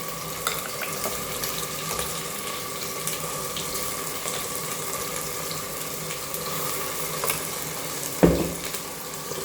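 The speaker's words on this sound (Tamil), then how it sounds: "இப்போது வெங்காயம் நல்லா வதங்குது." Onions and cardamom sauté in a pan for chicken biryani, giving a steady, close, even sizzle with faint stirring, and a brief louder clatter near the end.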